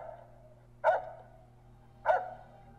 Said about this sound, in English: I appreciate the barking.